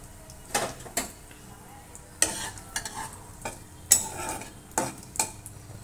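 Dal fries in a pot with dried chili and panch phoron, a soft background sizzle broken by about eight sharp, separate scrapes and clinks of a spatula against the metal pan, close by.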